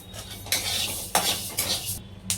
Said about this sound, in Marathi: जे आपण धने घेतले आहेत तेही 1 ते 2 मिनिटं आपण भाजून घेणार आहोत।